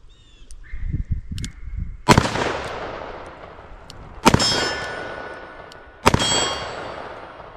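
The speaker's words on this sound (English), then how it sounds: "I want to step back here and take a few shots using some double action here." A Smith & Wesson 686 Plus .357 Magnum revolver fires three loud, sharp double-action shots roughly two seconds apart outdoors, each crack ringing with a metallic tail, after some faint handling clicks.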